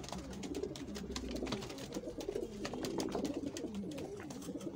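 Homing pigeons coo steadily at a newly built loft during their first release, with soft overlapping calls and wing flutters close by, continuous throughout.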